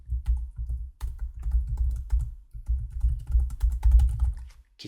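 Computer keyboard typing, rapid bursts of close, crisp keystrokes with short pauses between words while a field name is entered.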